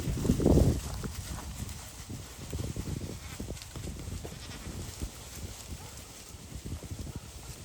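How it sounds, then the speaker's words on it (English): Spanish goats moving in toward the feeders on a farm, with soft hoof clatter, shuffling and a loud close burst near the start, then a steady low rustle of the herd milling about. "But here's the goats. They're coming in."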